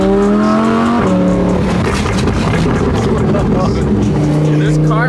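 A Dodge Hellcat's loud exhaust rumbles close by, engine tone rising and falling with crackling pops under the roar, heard from inside the car at full volume.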